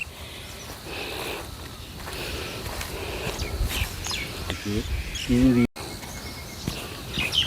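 Busy outdoor ambience with scattered bird chirps and insect-like buzzing, a short tonal call cutting through near the middle, plus faint footsteps.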